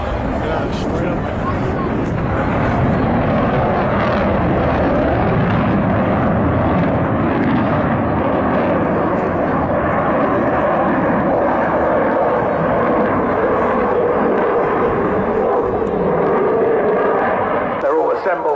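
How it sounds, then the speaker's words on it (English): Jet aircraft roaring overhead with afterburners lit at a seaside airshow, a loud, sustained broadband rumble that holds steady for the whole stretch, with spectator voices faintly mixed in beneath the noise. "Got afterburners on."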